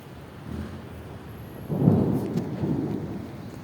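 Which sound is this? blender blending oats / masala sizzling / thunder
thunder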